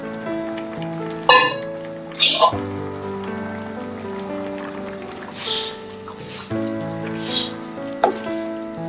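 Spinach stem kootu being stirred in a pot after water is added, giving soft wet sizzling and bubbling with a few sharp scraping clatters against the pan under a steady low hum.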